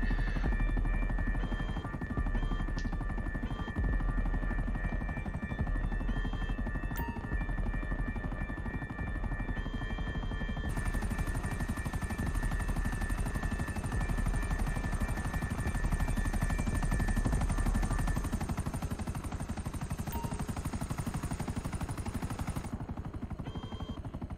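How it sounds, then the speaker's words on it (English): Helicopter in GTA Online: a steady, loud rotor whir and engine drone continues throughout, with faint gunfire-like pops in places and no speech. "And another mission with a different helicopter"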